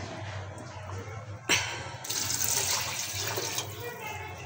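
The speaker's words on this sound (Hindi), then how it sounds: "अभी थोड़ा सा पानी और ऐड करेंगे" Water pours into a pot of mutton pulao, a sudden splash followed by a steady, close rush of pouring liquid that fills the rest of the moment.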